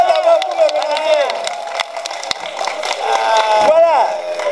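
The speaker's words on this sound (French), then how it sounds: "Applaudissez d'abord pour me remercier." An outdoor May Day street rally crowd cheers and shouts loudly and continuously, with voices rising and falling together and some scattered clapping underneath.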